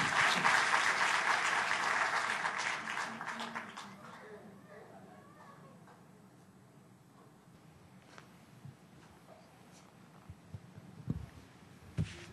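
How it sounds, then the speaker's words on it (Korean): An audience at a Korean church camp forum applauds loudly for a few seconds. The clapping then fades to a quiet hall with faint murmurs and a few scattered knocks. "박수 부탁드립니다."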